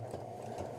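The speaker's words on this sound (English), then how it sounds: "we're just going to run a few stitches and then we're going to hit the reverse to lock the stitch in" A sewing machine running a few stitches along a shirt seam, a steady close whirring hum that holds evenly for under a second with no talk over it.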